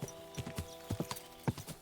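Horse hooves clip-clopping along a road in the video game Kingdom Come: Deliverance II, a brisk, uneven run of close, crisp hoof strikes over a faint steady background.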